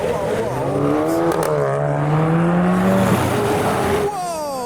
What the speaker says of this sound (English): The pink Astra with a love heart exhaust.